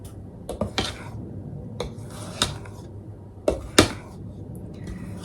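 Thick courgette cake batter being folded in a bowl gives a series of irregular scraping strokes and light knocks of a utensil against the bowl, close and moderately loud, with quiet pauses between.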